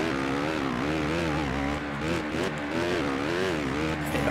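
Suzuki motocross bike ridden flat out during the final lap of an MXGP race, its engine a loud, continuous high-pitched wail that rises and falls in steady waves of revving with no pauses.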